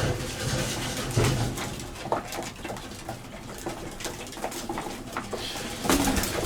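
Racing pigeons in a loft giving repeated soft, throaty coos that overlap, close by, with light rustling and pattering around them.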